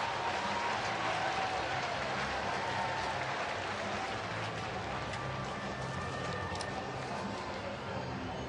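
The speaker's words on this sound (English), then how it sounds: "Big round of applause by Kiss Cam" A large crowd applauding at a baseball stadium during a Pirates at Cincinnati Reds game, a continuous distant wash of clapping and cheering that holds steady throughout.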